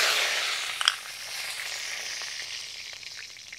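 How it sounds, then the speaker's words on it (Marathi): Mustard seeds, cumin and curry leaves crackling in hot oil in a kadhai while tempering for a red pumpkin curry: a steady close sizzle with a burst of sharp pops early on, then softer scattered spatters. "बघा, मोहरी चांगली तडतडली आहे।"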